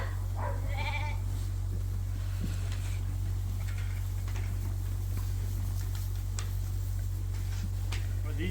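Young, well-fed lambs bleating on a farm, a couple of short high calls near the start and scattered faint ones after, over a constant low electrical hum and soft background noise.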